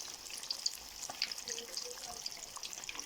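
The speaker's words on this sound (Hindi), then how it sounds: "मछली हमारी फ्राई हो चुकी है" Fish sizzling in hot ghee in a home kitchen, a steady faint crackle with scattered bright pops and spits throughout, no talking over it.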